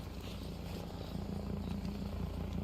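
Video game helicopter in Arma Reforger, a steady rotor thrum and engine drone holding at an even level throughout, fairly near and unbroken, with no talk over it.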